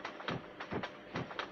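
Rhythmic chugging bursts from a toy train in a Peppa Pig Theme Park mini game, four evenly spaced puffs repeating steadily, close and moderately loud with no talking.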